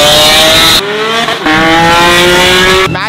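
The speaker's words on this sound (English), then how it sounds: "Matthew's GT3 RS sounds fucking insane." A high-revving Porsche GT3 RS engine screams continuously, its pitch climbing and shifting between gears, loud and close with no talking.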